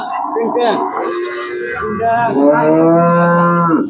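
Cows at the Hazratpur cattle market moo close by in two long, loud, wavering calls, the second rising and sustained, with market noise and faint voices in the background.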